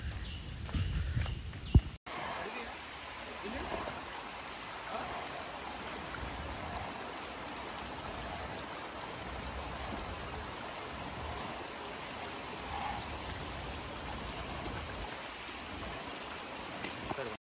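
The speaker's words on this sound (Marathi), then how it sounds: "या साईडनं पाणी वाहते ना" Water from a stream flows beside a hiking trail at Karnala fort, a steady soft rushing that continues throughout, with a brief louder burst at the start and a few light footstep-like sounds.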